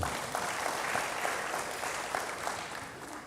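A church congregation applauds in a steady, dense wash of clapping that holds at an even level from start to finish, with no voices rising above it.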